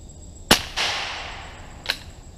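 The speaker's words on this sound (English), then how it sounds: "So I'm gonna take a shot real quick to see how accurate it is." A single pistol test shot in a VR game, sharp and close, followed by a longer hissing, rattling tail and a smaller click or impact near the end.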